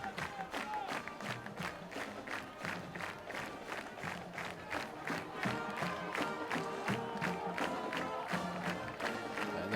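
Football crowd at a Concordia college game stands and claps along as the Cadets' fight song plays, a steady run of rhythmic hand claps with crowd noise and music behind, moderately distant and continuous.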